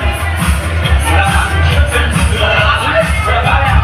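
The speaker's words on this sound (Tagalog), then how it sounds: "palakpak na may kasamang sigawan" A live audience claps and shouts steadily as a competing team makes its entrance at an event, a dense, loud roar of applause and cheering with voices mixed into the din.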